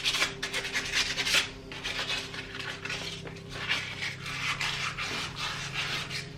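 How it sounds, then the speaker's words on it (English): Brake caliper pistons from an HJ47 are rubbed by hand with fine sandpaper, producing a close, quiet rasping scrub in uneven strokes with a few light metallic touches. "a little bit of fine sandpaper, just give them a clean up"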